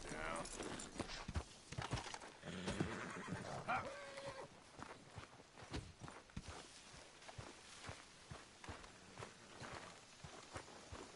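A horse whinnies near the start amid hoof steps and shuffling, then footfalls continue quietly at an uneven pace, in the video game Red Dead Redemption 2.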